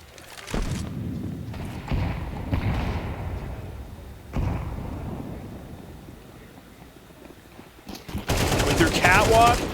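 Counter-Strike 2 gunfire during a LAN tournament match: bursts of automatic fire and heavy thuds, loudest in a dense rattling spell at the end, with a commentator talking over much of it.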